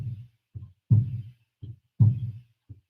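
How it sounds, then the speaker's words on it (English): A slow, steady heartbeat thumps in low, close double beats, the stronger thump of each pair recurring about once a second. "Just listen to the heartbeat."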